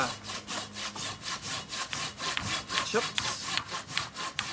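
A Silky Natanoko carpentry saw cutting through clamped wood in steady, rhythmic push-pull strokes, about three per second, with a coarse rasping bite on each stroke, close up and alone.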